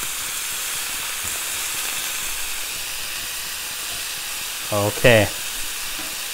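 Beef steaks frying with butter and rapeseed oil in a hot pan give a steady, close sizzling hiss throughout, with a brief spoken word near the end.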